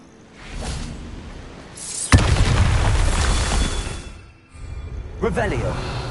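In Hogwarts Legacy, a Bombarda blasting spell goes off with a sharp crack and a loud rumbling boom that fades out. A second, smaller burst of debris follows, and a voice speaks over the start.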